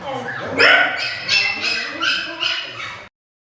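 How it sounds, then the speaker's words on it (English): A puppy whimpers and yips in a string of short, high cries, close and fairly loud, ending abruptly. "This is the last puppy left"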